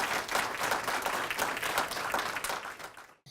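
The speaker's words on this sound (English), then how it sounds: "I do want to take this time just to give you some applause for supporting them in their most important work" An audience at a school district Teacher of the Year ceremony applauds steadily, dense clapping that holds for about three seconds and then stops abruptly.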